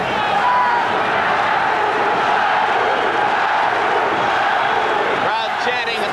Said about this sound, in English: Crowd chanting Matthew, Matthew.